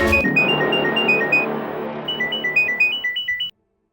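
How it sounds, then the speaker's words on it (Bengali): An incoming-call ringtone on a phone plays loud and close, first as a sustained electronic melody and then as a rapid repeating pulsed pattern of bright tones, stopping abruptly after about three and a half seconds with no talking. "গ্যাং থেকে ফোন আসবে অভিজিতের কাছে"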